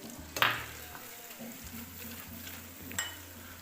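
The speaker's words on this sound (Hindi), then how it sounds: "अब हमने अदरक और मिर्चों को भी भून लिया।" Ginger and chilies frying with spices in a pan give a soft continuous sizzle over a low steady hum, with a brief scrape of stirring near the start.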